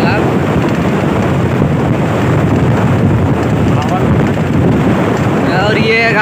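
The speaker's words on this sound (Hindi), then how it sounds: "भयंकर हवा चल रहा है अभी" Strong wind buffets the microphone outdoors beside a large pond, a loud continuous roar and rumble that fills the whole stretch with no pause.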